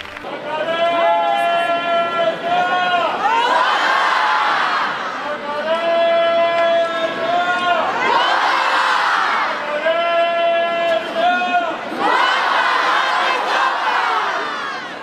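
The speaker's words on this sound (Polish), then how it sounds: "Pojawieniu się Makareny towarzyszą częste i gromkie brawa oraz okrzyki" A large crowd at the Macarena procession in Seville cheers and shouts in repeated loud surges, with chant-like cries rising and falling in waves.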